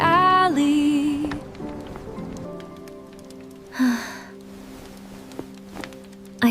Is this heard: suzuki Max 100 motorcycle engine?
no